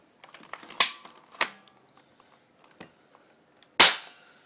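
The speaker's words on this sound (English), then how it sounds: "this is a spring-powered airsoft gun" A DMA M-14 SOCOM spring-powered airsoft sniper rifle fires two sharp, loud shots about three seconds apart. Between them come softer mechanical clicks and handling noises, with no one talking.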